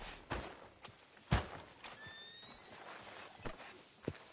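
Horse in a Western open-world game near a sheriff's office, with scattered hoof thuds and clops, a brief whinny in the middle, all fairly faint against quiet ambience.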